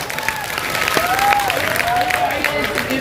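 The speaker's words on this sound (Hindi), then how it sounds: "एक बार तालियां बजाओ।" An audience claps at a Hindi poetry gathering in a large tent. The applause is steady and fairly loud, and voices and a faint tonal sound rise above the clapping.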